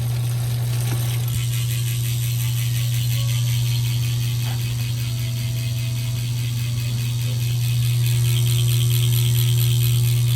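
A Specialized Tarmac SL7 Comp's rear freehub on a CLX 50 wheel with an 18-tooth ratchet clicks in a fast, even buzz of ticks that runs on nonstop over a low steady hum.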